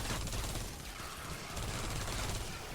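Hemlock gun firing in Fortnite Save the World, a dense, continuous burst of rapid automatic shots, loud and close, with no talk over it.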